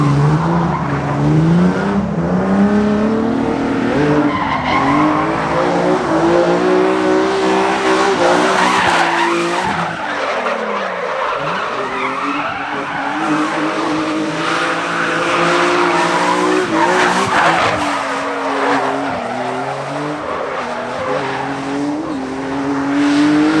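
A drift car skids continuously around a drift competition layout, tires squealing loudly over a revving engine that rises and falls through the run, with no break in the noise.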